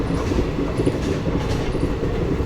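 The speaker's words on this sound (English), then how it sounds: "Here comes another train." A train in India passes close alongside another train, its loud continuous rumble and clattering wheels filling the whole stretch.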